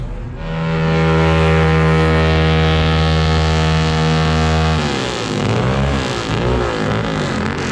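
A car's engine holds a loud, steady high idle, then revs hard and wavers up and down in pitch during a burnout, up close and with no talking.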